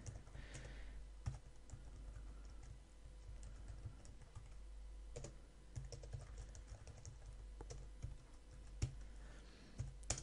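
Quiet, close typing on a computer keyboard as code is written, with irregular clicks and bursts of keystrokes over a low background hum.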